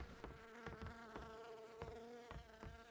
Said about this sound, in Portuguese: Se não fosse essa mosca voando aqui, eu acho que eu ouvi alguém aqui